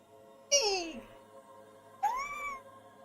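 A streamer voices two high-pitched kitty noises, each a rising then falling meow-like squeal, the second shorter; a human voice is imitating a cat.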